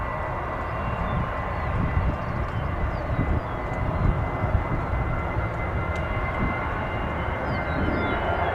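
A Southwest Airlines airplane taking off at Nashville International Airport, heard as a steady, broad jet engine roar holding at moderate loudness without talk.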